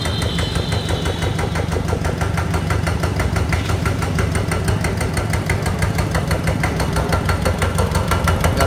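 A Kubota RT diesel engine runs steadily on a test, a loud, close, even mechanical chugging with rapid regular knocking pulses throughout and no talk.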